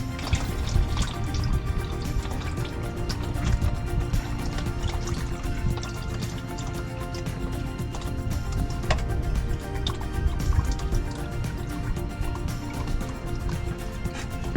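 Transmission fluid pours and drips from the dropped pan of a 2005 Ford Crown Victoria during a transmission service, a steady liquid trickle with scattered splashes running throughout at moderate level.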